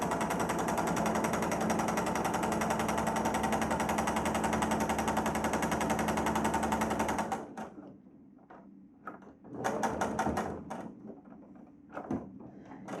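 A sewing machine stitches the pleats of a fabric face mask, running steadily and loudly for several seconds. It then stops, followed by a few short back-and-forth bursts of stitching mixed with quieter handling clicks.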